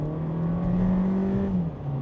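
SEAT Ibiza FR Black Edition with the 150 hp 1.5-litre four-cylinder accelerating in normal drive mode, a loud droning engine note that holds steady and then drops near the end.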